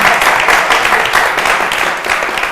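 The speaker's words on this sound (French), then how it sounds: "on l'applaudit." A television studio audience applauding on a youth talk show, a short, loud burst of massed clapping that holds steady and then eases slightly near the end.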